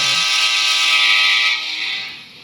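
Train from the mobile video game India Bike Driver 3D, a steady synthetic rumble with a held horn-like tonal drone that fades slightly toward the end, no voices.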